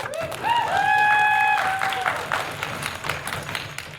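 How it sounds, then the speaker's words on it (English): Audience applause for a debate judging panel at the Queen's Open final, steady clapping swelling over a brief cheer or whoop near the start, with a voice speaking over it. "So round of applause for them."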